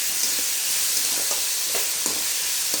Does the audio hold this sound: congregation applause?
no